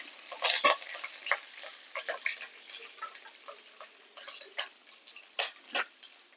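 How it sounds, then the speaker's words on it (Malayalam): Curry leaves fry in hot oil for lemon rice, giving off a steady run of sharp crackles and spitting pops in irregular bursts, close and fairly loud, with no voices. "കുറച്ച് കരിവേപ്പില ഇട്ട് കൊടുക്കാം കരിയാണ്ട് വറക്കണം"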